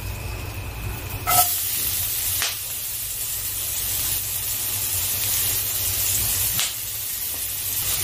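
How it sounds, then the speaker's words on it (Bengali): Chopped onions frying in a pan with salt and whole spices (cinnamon, pepper, cardamom, cloves) give a steady, close hiss that runs the whole time, with a few brief louder bursts. "আমি পেঁয়াজটাকে সুন্দর করে ভেজে নিচ্ছি"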